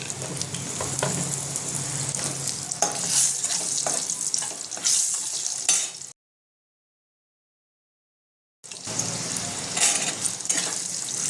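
Potatoes frying in hot oil with cumin and a little salt in a home kitchen, a steady close sizzle with stirring scrapes, broken by a brief stretch of silence before the sizzling resumes.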